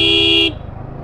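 A car horn gives one loud sustained blast in crowded evening street traffic, then cuts off, leaving a low engine rumble.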